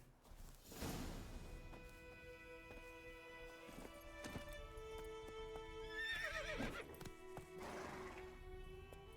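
Roach the horse in the video game The Witcher 3 trotting with rhythmic clip-clop hoofbeats, punctuated by a couple of whinnies and snorts, quiet and close over faint ambient music.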